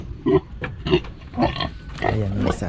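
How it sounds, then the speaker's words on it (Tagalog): A pig grunts in a pen on a small farm, several short snorty grunts in an irregular rhythm at close range, with voices talking alongside. "Pakita ko po yung baboy nila dito."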